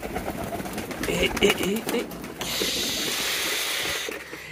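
Low, throaty pigeon cooing in soft repeated phrases close by at a pigeon market in Chattogram, followed by a steady hiss of background noise.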